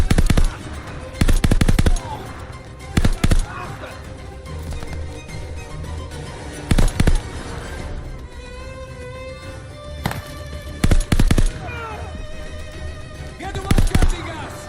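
Bursts of rapid automatic gunfire in the video game Call of Duty Vanguard, several loud clattering volleys at irregular intervals with quieter in-game noise between them.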